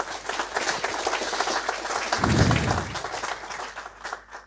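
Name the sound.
audience applause at a talk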